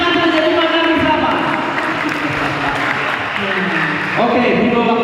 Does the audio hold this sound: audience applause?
yes